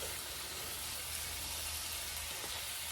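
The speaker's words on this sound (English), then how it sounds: "We're just going to keep sauteing these." Vegetables sauté in a pan, producing a soft, steady sizzle and hiss that stays faint and even from start to finish, with no voices.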